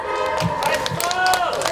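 Applause from an outdoor audience at a traditional market cultural festival, a brief burst of clapping mixed with a speaker's voice over a PA.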